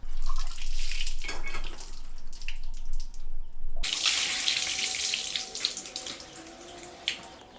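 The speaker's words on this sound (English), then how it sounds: "With icy water, he washes his face, hands, and feet." Icy water runs from a tap and splashes as a man washes his face, hands and feet, a steady close gush broken by a brief pause and then louder splashing.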